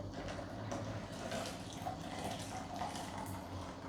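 Cold water poured into a 700 ml jar, a steady low trickling and splashing of liquid throughout, soft and close with no voices.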